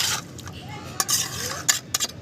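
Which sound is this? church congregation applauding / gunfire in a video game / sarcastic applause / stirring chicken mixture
stirring chicken mixture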